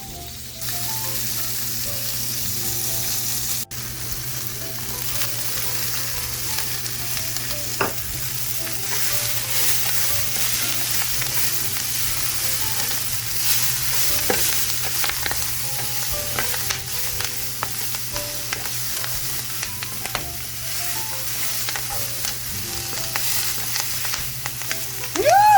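Bacon fries in a pan with a loud, continuous close sizzle, dense crackles and spattering pops throughout, and a low steady hum beneath, no speech.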